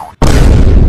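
After a brief hush, a sudden loud Diwali firecracker blast erupts and its roaring burst fills the rest of the moment.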